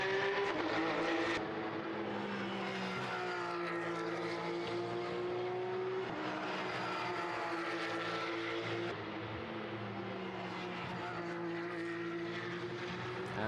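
Porsche race cars lapping the Monza circuit, a steady loud engine drone with shifting pitch as the cars pass, continuous throughout.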